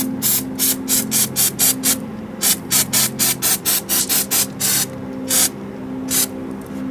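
Spray adhesive is sprayed onto a heat-resistant sheet in a rapid series of short, loud hissing bursts, about fifteen in a row with brief pauses, close up and alone.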